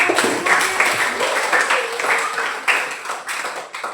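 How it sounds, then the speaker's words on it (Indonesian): A classroom of students claps their hands together at the end of a stage make-up lesson, giving a brisk, uneven burst of clapping that rises and falls over a few seconds. "mari kita berikan dulu tepuk tangan untuk kita"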